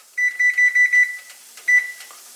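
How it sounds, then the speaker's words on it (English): A kitchen timer being set in a home kitchen while cooking broccoli orzo pasta, giving a quick run of six short, bright electronic beeps followed by one more beep after a pause, close and clear in a quiet room. "I'm going to put the timer on."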